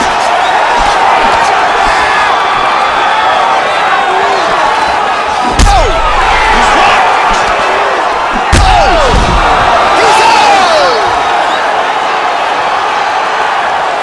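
Punches landing in a UFC 3 video game fight, with two heavy, loud thudding impacts a few seconds apart over a constant crowd roar and a commentary voice.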